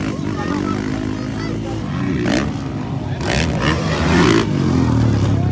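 Motorcycle engines rev and whine during a bar-to-bar race in Cabanglasan, Bukidnon, rising and falling in pitch at moderate distance, heard under loud excited commentary and crowd noise.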